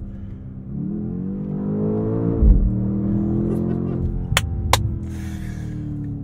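A 2024 BMW X5 M Competition accelerating hard, its engine note climbing loudly through the revs with a brief dip at an upshift, heard from inside the cabin along with a short exclamation from a voice.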